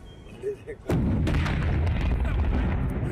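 A sudden loud blast erupts after a brief quiet moment, followed by a sustained roaring rumble and crackling debris that fills the rest of the clip.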